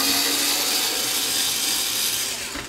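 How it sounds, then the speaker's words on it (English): Screws come out of the wooden base of a Crosley Dual CS430 turntable with a continuous close grinding, rubbing whir that holds steady and fades slightly near the end. "This thing's got a wood base, so we'll remove the screws"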